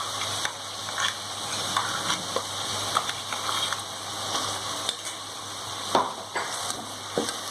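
Mint paste for pudina rice frying in a pan, a steady low sizzle with scattered soft stirring clicks and scrapes, close and fairly quiet, no voices.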